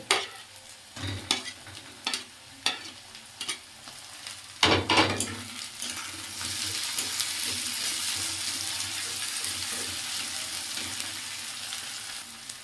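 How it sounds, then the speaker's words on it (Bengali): Chopped tomato drops into onions and whole garlic frying in a pan for a prawn curry: a few sharp taps and clatters, then a steady, close sizzle that swells and holds. "এবার আমি এই যে টমেটো কুচি করে নিয়েছি এটা দিয়ে দেব।"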